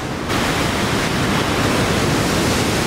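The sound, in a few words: ocean waves pounding at Sunset Beach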